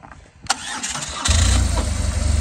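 A BMW R1200GS motorcycle engine cranks briefly, then catches and settles into a steady, rumbling idle close by.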